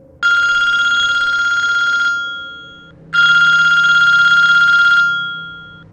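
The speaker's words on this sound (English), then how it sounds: "the phone started ringing" A home telephone rings late at night, two long bright electronic bell rings separated by a short gap, loud and close with nothing else heard.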